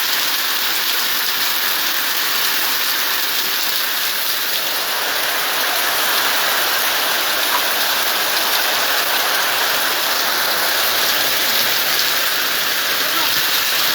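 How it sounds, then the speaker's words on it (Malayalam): Heavy rain pours down in a loud, unbroken rushing hiss, a dense close wash of drops that holds steady throughout. "അത്ര ശക്തമായ മഴയാണ് പെയ്യുന്നത്."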